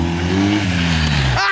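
Loud engine of a BMW 1250 motorcycle revving hard for a wheelie, a sustained roaring tone that sweeps downward before a sharp higher rise at the end, with people talking over it.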